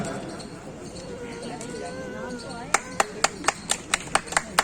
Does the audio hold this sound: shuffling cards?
no